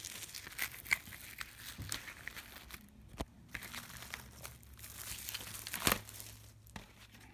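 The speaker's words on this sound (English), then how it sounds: "I'm just gonna have to cut these open carefully" Plastic wrapping on a game package being carefully cut and peeled open, with close crinkling and tearing rustles in irregular bursts, fairly quiet.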